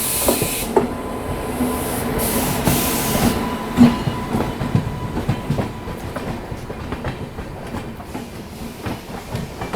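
Aboard the Kaifiyaat Express overtaking another train at Sahibabad Junction, wheels clatter over rail joints in a loud, uneven rhythm beneath a steady hum and hiss, with a brief louder thump partway through.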